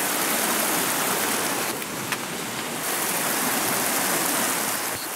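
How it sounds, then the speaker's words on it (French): Steady, broadband rushing of water from a small waterfall near Rimouski, Canada, constant and fairly loud, with no voices. "On va traverser une mini cascade."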